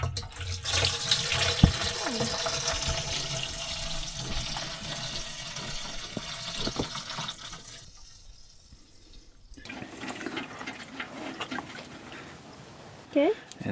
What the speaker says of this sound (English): We'll run all the fuel through this filter into a clear bucket so that we can see how much water and gunk is in there.